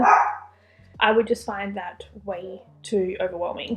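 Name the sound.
dog barking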